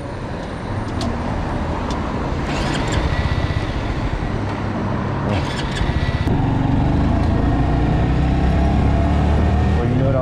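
A 2020 Honda Grom motorcycle engine runs loud and close, a steady unbroken drone lasting throughout with brief rising revs.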